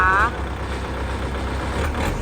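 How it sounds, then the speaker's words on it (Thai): The engine of a 2021 L50 vehicle with 1,500 hours of use idles in a steady, low, continuous rumble that stays even for the whole short stretch. "ฟังเสียงเครื่องยนต์เลย L50 นะคะ คันนี้"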